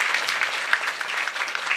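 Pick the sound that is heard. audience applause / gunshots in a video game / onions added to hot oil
audience applause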